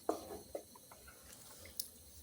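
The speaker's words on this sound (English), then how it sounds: "we rinse out the blender to get everything into the stew" Water sloshing while a blender is rinsed out for a garden egg stew, faint scattered splashes and clinks with a few sharper taps over quiet background.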